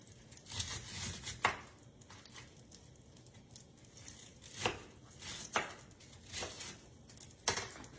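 Knife chopping cabbage on a cutting board for a kielbasa dinner, a fairly quiet, irregular series of crisp chops and crunches close by, with pauses between strokes.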